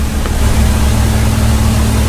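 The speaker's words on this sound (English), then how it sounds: "I'll cool this engine off." A Spitfire Mk I/II piston engine in the FSX flight simulator drones steadily and loud, a constant low rumble with no break or change in pitch.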